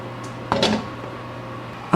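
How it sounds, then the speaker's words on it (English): A home oven door clunks open at about the halfway mark as a baked white cake is lifted out, followed by a second brief knock at the very end, over a steady low kitchen hum. "Now it's time to come out of the oven."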